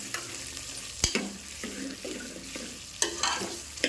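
Onions frying in a pan, a soft continuous sizzle broken by repeated close scrapes and taps of a spatula stirring them, one sharp knock near the start; quiet overall and no speech.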